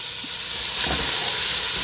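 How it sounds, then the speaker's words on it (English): Chopped onion sautéing in a hot pan gives a steady, close broadband hiss that swells slightly partway through and holds, with no talking. "So I'm going to saute this onion up until it's nice and translucent."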